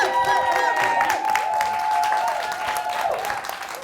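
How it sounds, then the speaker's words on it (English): Audience applause after a live performance at the Green Line Performing Arts Center, a dense, steady burst of clapping from a crowd that fills the space, with a little cheering mixed in throughout. "Let us start with a rousing round of applause for the one and only Benji Hart."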